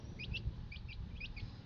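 A mother hen with her chicks gives repeated short clucks in three close pairs, moderately loud over a low rumbling background, with no talking.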